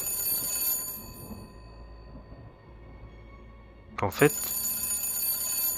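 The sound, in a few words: telephone ringing, horror role-playing game trailer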